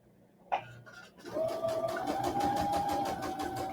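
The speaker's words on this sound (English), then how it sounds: "Now I'll go stitch forward." A sewing machine stitches forward along a seam, starting after a short click and then running at a steady, close hum with an even rapid stitch rhythm, alone.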